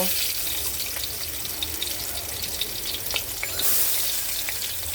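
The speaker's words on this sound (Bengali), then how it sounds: "এখন আমি মাছগুলো ভেজে নেব" Fish fries in hot oil in a wok, giving a steady, dense sizzle with crackling pops throughout, close and continuous, with no one speaking.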